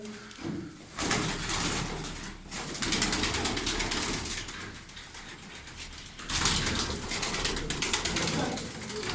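Tumbler pigeons coo and stir close by, soft throaty calls mixed with fluttering and rustling handling noise in bursts, while people talk nearby.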